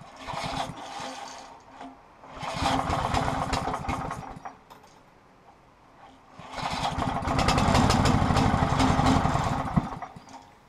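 DR field and brush mower engine with a sticking carburetor float valve and a dry starter, cranking in one loud burst that dies, then catching again and running in a rough, steady idle up close.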